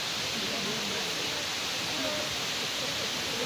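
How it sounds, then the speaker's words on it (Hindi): Steady broadband rush of the large indoor waterfall at Dubai Mall, a constant wash of falling water filling the space evenly with no breaks, with faint crowd murmur beneath. "Dubai mall waterfall"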